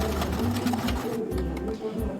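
A domestic sewing machine stitching a deep-neck princess-cut blouse, its rapid mechanical chatter running in short bursts with brief pauses, close and moderately loud, while someone talks over it.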